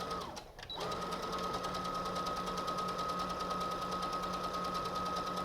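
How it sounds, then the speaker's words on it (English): A sewing machine stitches a layered cloth face mask, its motor starting after a brief pause and settling into a steady, fast, even whirring hum with a rapid needle chatter. "Again, stitching with the right sides together, just as you would a normal dress."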